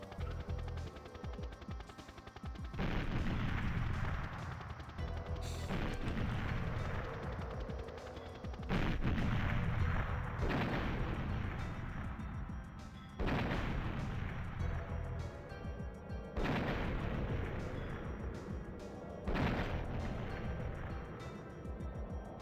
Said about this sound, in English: Explodes.